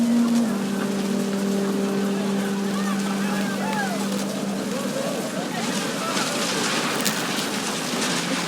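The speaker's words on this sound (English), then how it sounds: "The rain came down in buckets then, but no one seemed afraid that nature might destroy the tent our dad had crudely made." Heavy rain pours steadily through a scene in the video game What Remains of Edith Finch, with a dense, continuous wash of drops and a low sustained hum underneath.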